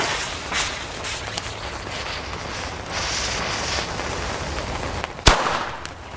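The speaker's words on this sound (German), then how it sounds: "Kanonenschläge von Weco," A Weco Kanonenschlag firecracker, made in Germany, goes off outdoors on New Year's Eve with one sharp, loud bang late on, after several seconds of steady outdoor hiss and faint distant crackling.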